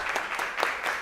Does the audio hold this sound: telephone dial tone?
no